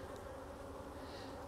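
Honey bees hum around a Flow Hive in a faint, steady, continuous buzz, with no voices over it.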